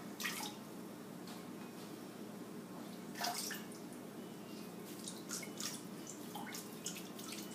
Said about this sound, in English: You're just going to want to gently kind of squeeze the water out.